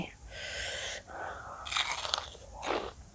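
Close crisp bites into sour bilimbi fruit outdoors in a guava orchard, followed by wet crunching chews in a few short bursts, fairly quiet and with no talking.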